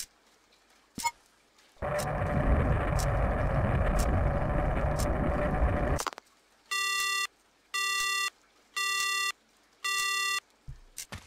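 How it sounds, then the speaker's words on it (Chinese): A telephone rings in the horror video game Water Tank, loud repeated electronic ring bursts in an even on-off rhythm, following a long stretch of running water. "每天这个电话真的很烦。"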